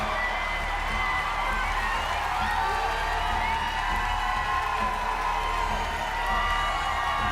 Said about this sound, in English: the crowd roared with a standing ovation